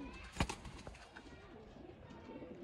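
Old pigeons, one a female, kept for a kabootar bazi flying game give a short burst of low cooing and wing flutter near the start, then soft rustling and faint cooing in the background.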